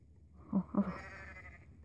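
A goat bleats in the mobile game Goat Simulator, two short close bleats in quick succession followed by a fading tail over faint background sound.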